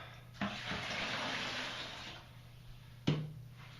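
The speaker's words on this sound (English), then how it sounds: "And dump all the excess water out" Excess water splashes out of a water filter housing in a short pour, then fades, followed by a sharp clunk near the end; quiet, with no voices.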